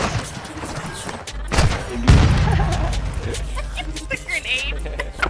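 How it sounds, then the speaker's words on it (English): A grenade goes off in Call of Duty Modern Warfare online play, one heavy booming blast in the middle among scattered gunfire and thuds, with a player talking over the game sounds. "The grenade."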